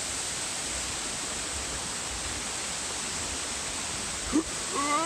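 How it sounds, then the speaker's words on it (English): A steady, broad rush of a waterfall on the Pacific Crest Trail fills the air, with a short chirp or squeak near the end. "That's a damn nice fall."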